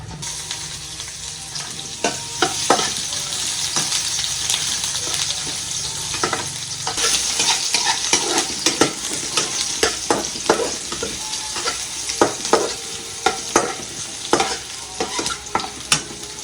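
Corned beef fries in a well-used wok with a loud, close, continuous sizzle. Frequent sharp scrapes and clicks of a spatula stirring against the metal cut through it, and no voices are heard.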